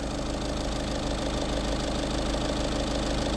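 Steady, close idling of a Volkswagen Polo Highline engine with about 59,000 km: an even, droning rumble with a slight beating pulse, continuous and uninterrupted.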